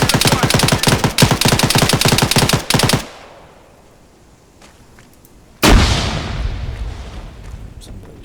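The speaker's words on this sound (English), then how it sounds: "Somebody's shooting." Rapid automatic gunfire in the ArmA 3 Cold War Assault video game, a loud sustained burst for about three seconds, then a quiet pause before a heavy blast-like shot with a trailing rumble.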